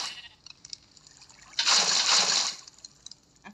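Water fills a swimming pool in a building video game: a quiet stretch with faint clicks gives way to a loud rushing splash lasting about a second, which then drops back to near silence.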